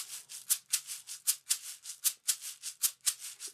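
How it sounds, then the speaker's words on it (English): A shaker played with arm and wrist in a world drumming lesson, giving a steady run of bright, crisp swishes in an even rhythm with accented beats, fairly soft and close, with no talk. "shaker and it sounds like this."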